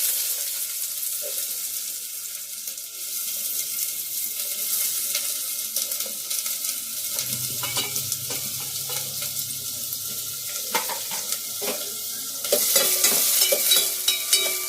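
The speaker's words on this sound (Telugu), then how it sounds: "తొందరగా కట్ చేసుకుని ఉల్లిపాయ ముక్కలు వేసుకున్నాను" Chopped onion pieces fry in a pan with fenugreek seeds, crackling and sizzling steadily while a spoon stirs and scrapes now and then. The sizzle grows louder near the end, and nobody talks.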